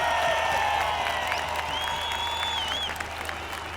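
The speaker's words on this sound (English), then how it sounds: "I want you to give them a massive round of applause" Outdoor crowd applauding at a rally in Trafalgar Square, London, a steady wash of clapping with some cheering, with faint tonal sounds drifting above it throughout.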